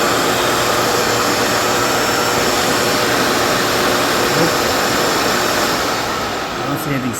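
A Dyson vacuum cleaner whose brushes will not spin, switched on and running with a loud, steady, broadband whooshing roar heard close up, unchanging throughout.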